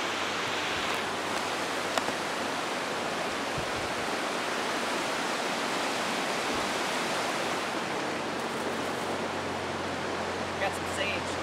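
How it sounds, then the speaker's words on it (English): Steady roar of a fast-flowing river running high with Cascades snowmelt at Little Naches, a broad rushing wash that stays loud and even throughout, with no pauses. "This river is getting really high."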